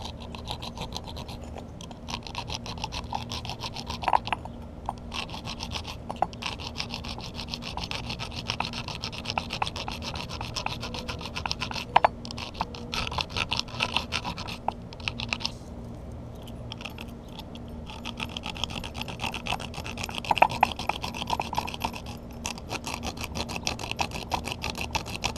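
A spark striker rasped over and over to ignite hand sanitizer, producing a long stretch of dry scraping strokes in an irregular rhythm, steady and close with no speech.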